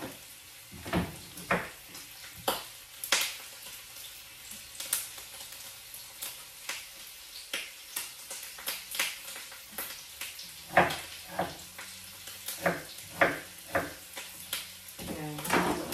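Meat frying briefly in a wok, producing scattered sizzling bursts and frequent clattering stirs and scrapes of a spatula against the metal, close up, with no talking.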